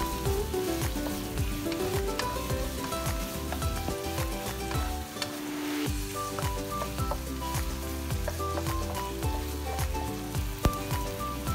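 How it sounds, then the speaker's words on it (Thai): Pork belly stir-fries with shrimp paste, red chili and kaffir lime leaves in a pan, a soft steady sizzle with light stirring clicks under tuneful background music. "หลังจากเราใส่ลงไปแล้วนั้นผัดแค่แป๊บนึงก็ได้แล้วนะคะ"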